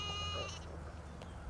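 A hair sheep lamb bleats once for its mother, a clear wavering cry close by that fades into low farm background noise.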